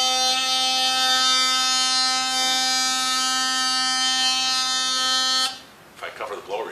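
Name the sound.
harmonica bent note with draw reed covered by finger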